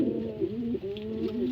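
Racing pigeons cooing close by, a brief soft throaty coo rolling in low repeated pulses, alone without talk.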